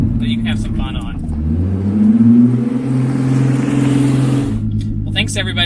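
1988 Pontiac Fiero with a turbocharged VR6 and six-speed gearbox, mud-covered, driven on a paved driveway: an engine note rises under acceleration then holds a loud, even rumble for a few seconds, with someone talking before and after.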